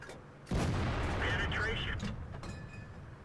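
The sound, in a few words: tank cannon firing in World of Tanks video game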